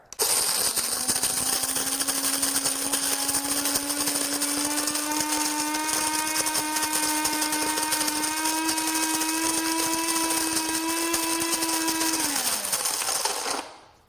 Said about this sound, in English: you'll have a beautiful, fresh and flavorful cup of coffee by using the Burr grinder